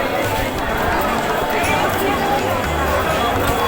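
A dense crowd of pilgrims packed at the Kashi temple: a continuous loud hubbub of many voices and shuffling movement, steady throughout with no single speaker standing out.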